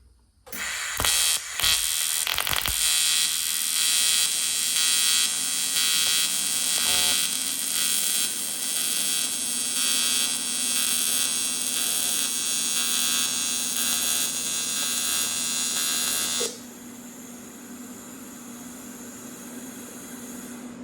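Welding, heard as a steady loud electric buzz and crackle close by that runs for about sixteen seconds after a few sputtering starts, then cuts off, leaving a quieter hum.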